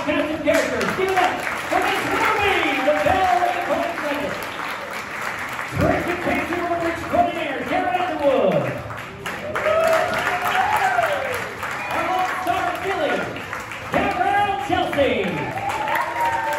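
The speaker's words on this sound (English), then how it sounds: "One more round of applause for my cast of characters." Audience applause for the cast of a Wild West show at a frontier-town saloon, loud and sustained, with cheering voices and shouts rising over the clapping throughout.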